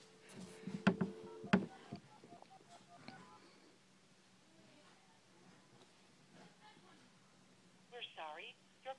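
A mobile phone places a call: short button beeps and clicks near the start, then quiet, and a rising-falling electronic tone pattern near the end, with faint talk in between.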